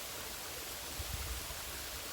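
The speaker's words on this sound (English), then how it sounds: "It's a waterfall we come to numerous times a year." A waterfall gives a steady, broad rushing roar with no breaks, filling the outdoor space with constant noise.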